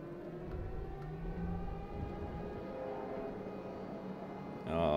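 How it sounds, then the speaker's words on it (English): An air raid siren in the video game Frostpunk 2 holds a steady, droning tone over low rumbling background noise, wavering slightly, then a louder burst of sound cuts in at the very end. "Oh, air raid siren. That sounds awesome."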